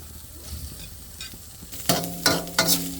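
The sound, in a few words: grated coconut frying in ghee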